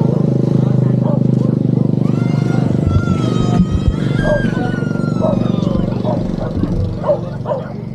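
A motorcycle rides along a Siargao road, its engine droning steadily under wind. Dogs bark and yip repeatedly nearby, and voices are heard over the ride.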